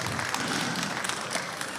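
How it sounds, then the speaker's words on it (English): Applause from a panel audience at an arts and technology festival, a steady dense wash of many hands clapping at moderate volume, fairly faint and even throughout. "And please give her an applause"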